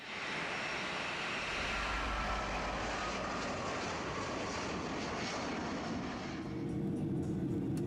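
The MH17 passenger airliner in flight gives a steady, loud, broadband engine roar that stays constant throughout, with no talking.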